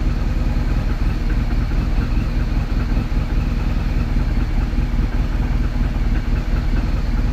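A BMW R 1200GS motorcycle engine idling close by, a loud, steady low rumble with a fast, even pulsing that runs unbroken throughout, with no voices over it; the bike reportedly shakes somewhat as it runs.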